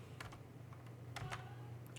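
Typing on a computer keyboard during a Linux command-line lesson: quiet, close key clicks in irregular bursts over a low steady hum, with no voices.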